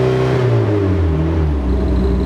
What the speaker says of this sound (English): go ahead and rev it up a bit